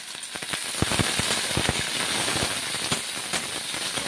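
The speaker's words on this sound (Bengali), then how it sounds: "তেলটা গরম হয়ে গেছে, পেঁয়াজটা দিয়ে দিলাম, লঙ্কাটা দিয়ে দিলাম," Sliced onion and green chilli hit hot oil in a karai for a spicy chickpea and potato curry, giving a steady close hiss scattered with sharp, irregular crackling pops, with no talking.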